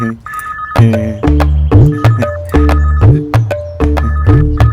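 A landline telephone rings loudly in a repeating melodic pattern of bright electronic tones, close and alone.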